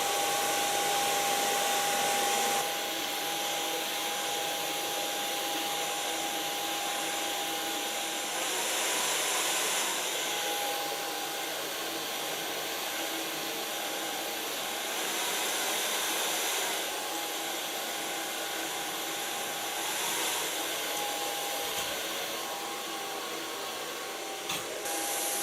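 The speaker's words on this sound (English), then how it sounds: "Take a Olivia garden brush and start blow drying." Hair dryer blowing steadily while medium-long hair is blow-dried over an Olivia Garden brush, a loud continuous whoosh with a faint whine, slight swells as it moves, close and with no talk.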